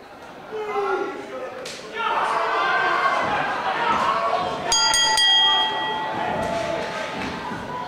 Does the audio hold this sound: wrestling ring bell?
yes